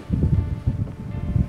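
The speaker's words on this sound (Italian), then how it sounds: "prima raffica" A steady gust of wind buffets the microphone aboard an Ice Yachts Ice 60 sailboat on flat sea, a loud, low rumbling roar with uneven pulses throughout.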